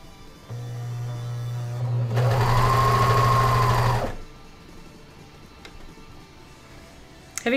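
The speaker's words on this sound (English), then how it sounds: "Sewing in the hood is actually the one somewhat challenging step on this pattern." A sewing machine stitches a hood onto a dog jacket in a single close burst of about two seconds, with a steady motor hum and needle rattle, then quieter handling sounds without talking.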